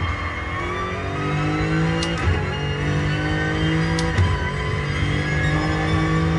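A race car engine in Gran Turismo Sport drones steadily at high revs, with two brief shifts or lifts around the middle, a continuous mid-loud game engine tone with no talking.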